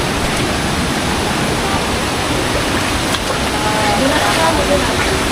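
Steady broadband rush of a waterfall at Mabu Falls in Baler, a constant close roar of falling water with no break, continuing alone for the whole stretch.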